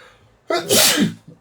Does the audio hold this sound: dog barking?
no